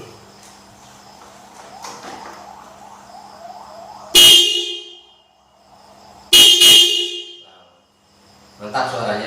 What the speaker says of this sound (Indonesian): demikian suara klakson Mio Nakal